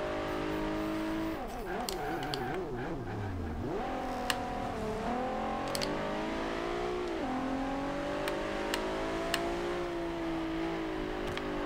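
A 2012 Nissan GT-R Black Edition driving in Forza Horizon 2, engine droning and revving up and down through gear changes, with a few sharp clicks over a steady loud roar.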